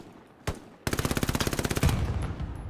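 Automatic gunfire in the World War II shooter Hell Let Loose, set at Stalingrad: one isolated shot, then a loud, fast, evenly spaced burst of about a second, followed by a trailing rumble.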